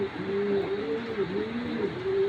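Two male Giribaz flying pigeons with silver-toned feathers coo close by, a continuous run of soft, rolling, wavering coos lasting the whole stretch without pause.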